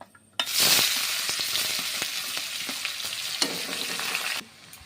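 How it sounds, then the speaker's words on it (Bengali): Onion frying in hot oil bursts into a loud sizzle, then holds a steady hiss with scattered stirring clicks before cutting off abruptly, with no one speaking. "এখন এই যে পেঁয়াজটা ভাজা হয়ে গেছে"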